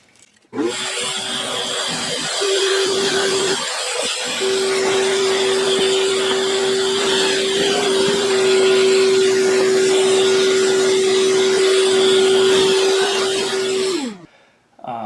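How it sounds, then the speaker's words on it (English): A power drill bores pocket holes in wood for pocket hole screws while building marine flare storage for a Catalina 25 sailboat. A loud, close, continuous motor whine stops briefly near the start, then runs steadily for a long stretch before cutting off. "let me put a couple of pocket hole screws, holes in here"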